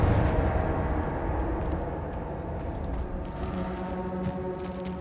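A Confringo fire spell explodes in Hogwarts Legacy, a heavy rumbling blast that swells at once and then settles into a sustained low roar with crackling debris.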